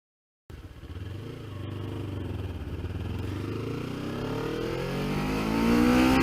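A 2016 Kawasaki Ninja 300 ABS motorcycle engine drones and climbs steadily in pitch, with a brief dip suggesting a gear change before revving higher again, close and continuous with wind noise.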